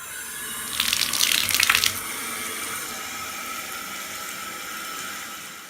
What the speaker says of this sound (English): I don't want to waste the water from the sink, so I'm going to fill up my pitcher